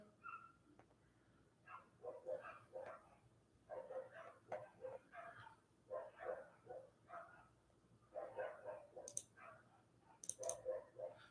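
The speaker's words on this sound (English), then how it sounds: "if you hear dogs in the background," Dogs bark in the background at a residence: repeated short bursts in uneven clusters across the clip, moderately distant and fairly faint, with occasional higher yips and clicking noises and no one talking.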